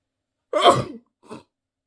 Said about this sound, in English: I'm going to sneeze, so bear with me if that happens.